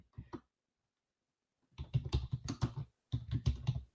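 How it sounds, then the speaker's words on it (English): Typing on a computer keyboard, close quick bursts of clicky keystrokes with a short pause between them, alone with no voices. "I'm typing in our chat."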